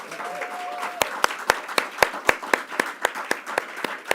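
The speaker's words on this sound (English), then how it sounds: "let's give another round of applause to our governor" Audience applause for New York Governor Kathy Hochul at a New York City event, thinning into a sparse, rhythmic run of individual sharp claps after a brief tone, fairly quiet and not a full crowd roar.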